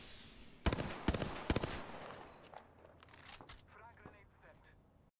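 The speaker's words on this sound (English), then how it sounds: "This guy's getting some nice shots on me with that charge rifle" Charge rifle fire in Apex Legends, a few sharp, loud shots in a quick cluster early on followed by scattered fainter game noises fading out.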